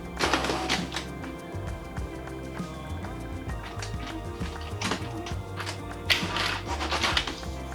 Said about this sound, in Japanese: すぐに用紙入っていきましたよね。